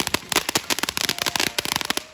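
Independence Day fireworks crackle in a dense, rapid barrage of sharp pops and bursts, loud and close, with no talk over them.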